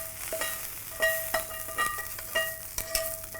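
A spoon stirs a spinach and vegan cheese mixture in a pan: soft scraping strokes about twice a second with light clinks, close by, under a faint sizzle.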